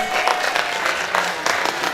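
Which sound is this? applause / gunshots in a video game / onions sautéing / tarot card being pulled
applause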